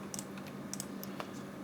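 Several light computer keyboard key presses, quick and sparse clicks at close range over a faint steady hum, with no voices.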